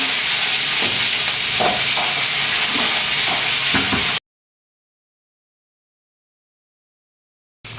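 Dried red chillies and curry leaves sizzle loudly in hot oil, a dense, close crackling hiss with stirring clatter that cuts off abruptly into silence, then briefly returns at the very end.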